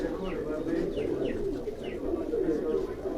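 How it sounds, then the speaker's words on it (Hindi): Pigeons cooing softly in a repeated rhythmic pattern at close range, heard under a man's ongoing speech. "ये आप जो कबूतर आप देख रहे हैं उस्ताद गुलजार अवान साहब के हाथ में"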